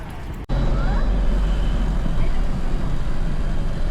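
Ten-seater SUV heading toward Panaji in Goa, with a steady road rumble and low engine hum from inside the moving vehicle after a brief dropout at the start, continuous and fairly loud.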